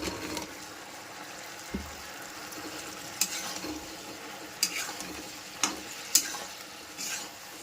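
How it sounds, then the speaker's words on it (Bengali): Chicken pieces are stirred through bubbling masala for chicken 65, a soft, quiet simmering sizzle punctuated by several sharp clinks and taps of a spoon against the pan. "এখন এটার মধ্যে চিকেনগুলো দিয়ে নাড়াচাড়া দিয়ে নামিয়ে নেবে।"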